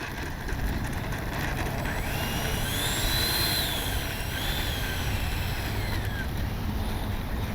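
An FMS Avanti S 70mm electric ducted-fan RC jet flies past, a steady rushing whoosh with a thin whine that rises and falls as it passes, heard at a distance over outdoor wind.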